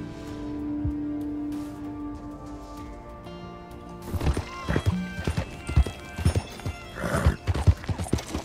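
Horse hooves clip-clopping and a horse whinnying in Red Dead Redemption 2, the steady hoofbeats growing louder and busier partway through with a neigh near the end, over a faint musical backdrop.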